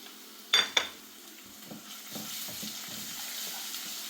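Garlic-ginger paste hits fried onions in a hot pan for chicken kurma: two sharp clatters at the start, then a steady, soft sizzle with faint stirring and scraping underneath, no talking.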